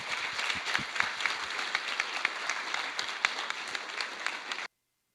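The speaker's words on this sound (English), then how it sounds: "Can I please get another round of applause?" A conference audience gives a round of applause, a steady, even wash of many hands clapping for several seconds before cutting off abruptly.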